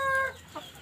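Black Cemani chickens kept in a breeder's pen give a short burst of clucking nearby, a quick couple of calls with no talk.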